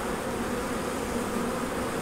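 Honey bees buzz around a hive during package installation, a dense, continuous drone of many insects close to the microphone, steady and unbroken.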